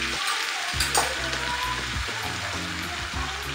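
Cumin seeds sizzle and crackle steadily in melted Amul butter in a pan, a close, continuous frying hiss with no talking.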